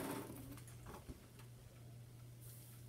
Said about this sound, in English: what I'm doing is kind of stitching in this ditch right here on the cream